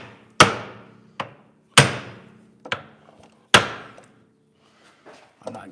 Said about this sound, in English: You grab a ball peen hammer and right here at the knuckle, you put some pressure on that.